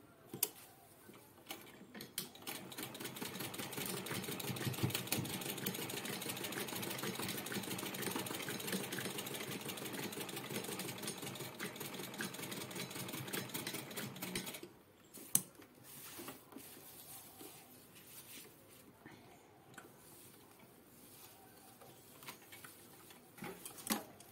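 A sewing machine double-stitches a pouch made from rough leftover fabric, running in a steady whirring burst for about fifteen seconds, then giving way to quieter intermittent clicks and short runs.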